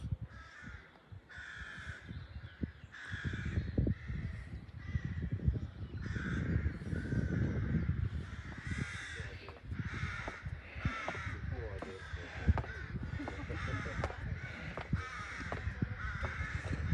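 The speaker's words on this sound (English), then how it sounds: "The rooks are making a racket." Rooks call near St David's cathedral, with a loud, ragged chorus of harsh caws repeating throughout and a person speaking over them.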